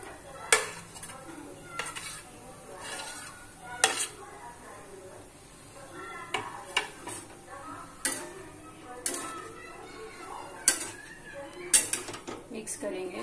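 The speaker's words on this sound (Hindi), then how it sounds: "अब हम इसमें आलू डालेंगे" Potatoes being stirred into a pan of turmeric-spiced samosa filling, with repeated sharp clinks of a spoon against the pan at irregular intervals over a low kitchen background.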